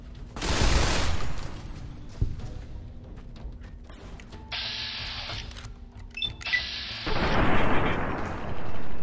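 Gunfire in the video game Fallout: New Vegas, with loud bursts of shots separated by quieter stretches and some electronic game tones in between.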